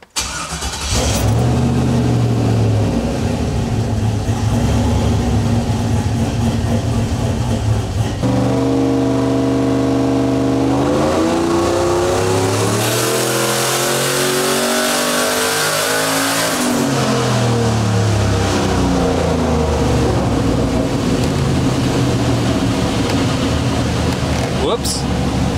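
A turbocharged SBE Chevrolet Silverado pickup engine runs on a dyno, holding a loud steady drone before sweeping up through the revs in a long rising pull and then dropping back, close and continuous throughout.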